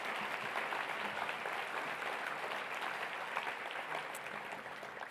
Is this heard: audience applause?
yes